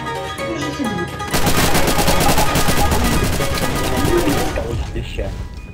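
Sustained automatic machine gun fire in Garry's Mod, a dense rapid burst of shots lasting several seconds, loud and close, with voices talking faintly before and after.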